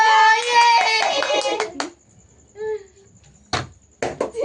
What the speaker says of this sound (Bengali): এই হাততালি বাজাও, হাততালি বাজাও।